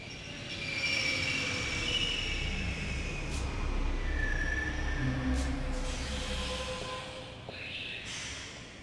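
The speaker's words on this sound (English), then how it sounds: "I'm just gonna take the train" A train in the video game The Longest Journey rumbles steadily with a low roar, faint wheel squeals and a few sharp metallic clanks rising and fading over several seconds, with no voices.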